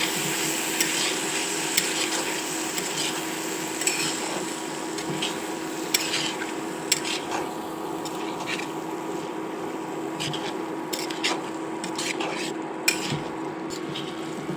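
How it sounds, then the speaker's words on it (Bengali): Dal with peanuts being stirred in a pan, a steady close scraping and shuffling that runs throughout, with a faint sizzle and occasional sharp clinks of the spoon against the metal. "এই দেখুন, ভালো করে আমরা নেড়ে ছেড়ে নিচ্ছি।"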